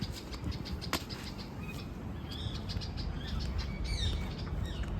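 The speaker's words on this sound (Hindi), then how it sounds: "तोते की आवाज़ आप सुन पाएंगे" Bird calls ring out near a mango tree in a North Indian kitchen garden in summer, several short chirps and squawks over a steady low outdoor rumble, moderately near.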